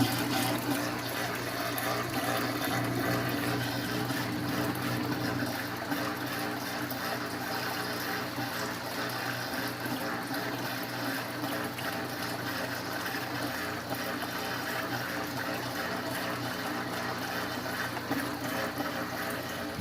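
Water rushes steadily and loudly during a 55 gallon tank water change, a continuous splashing flow like a filling stream that holds even for the full duration with no talking.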